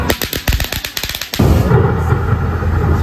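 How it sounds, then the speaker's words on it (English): A firecracker bangs once with a sharp, loud blast and a rumbling tail at a haunted hayride queue line in a large Halloween scream park, following a quick rattle of rapid percussive pops. "Featuring a firecracker somewhere."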